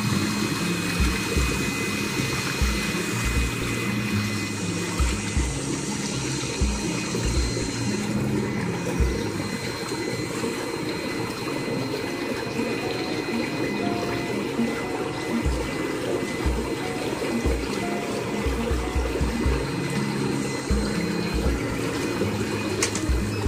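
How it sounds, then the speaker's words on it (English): Steady bubbling and churning water from the bubble jets of an Intex PureSpa inflatable hot tub, with a constant mechanical hum underneath, continuous and fairly loud throughout, no voices. "So the bubbles are kind of noisy, but they're very relaxing."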